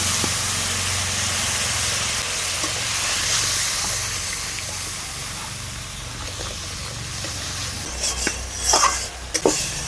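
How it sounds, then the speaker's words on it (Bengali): Masala frying in oil in a pan with a little water and ground cumin, a loud continuous hiss and sizzle, with scraping stirs and sputters growing toward the end. "মশলাটাকে আর কিছুক্ষণ ভালোভাবে কষিয়ে নেব"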